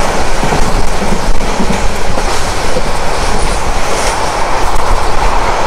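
The Mohanagar Provati Express running from Dhaka to Chittagong, a loud, steady rail roar with continuous clickety-clack of wheels and occasional squeal, heard from on board with no talking.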